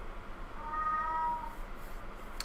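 A domestic cat lets out a single drawn-out meow in the middle, fairly close and clear against a quiet background.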